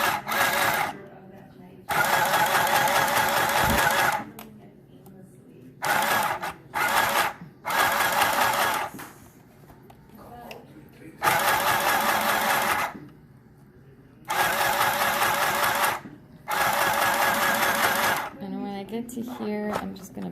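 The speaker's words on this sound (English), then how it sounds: "So now I'm going to do the top stitching." Domestic sewing machine top-stitching fabric while turning an old dress into a crop top and skirt, running in loud steady bursts of a few seconds each, separated by pauses with faint handling and some talk.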